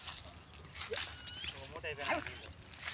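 A dog gives faint, brief whimpers and yips in the distance, mixed in with people talking nearby.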